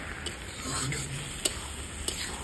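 Potato curry being stirred in a frying pan, with a soft steady sizzle and scraping, plus a few sharp clicks of the spoon against the pan.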